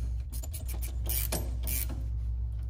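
Ratchet tightening bolts on shock relocation tabs of a 3rd-gen Toyota 4Runner during an outboard shock install: rapid clicking bursts over a steady mechanical hum, close and alone.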